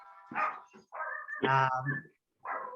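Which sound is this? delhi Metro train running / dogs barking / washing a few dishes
dogs barking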